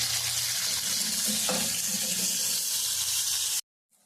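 Flat beans frying in a little leftover fish-frying oil, a steady close hiss and sizzle with faint stirring clatter, cutting off abruptly at the end.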